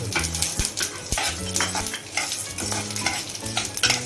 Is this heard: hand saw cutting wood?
no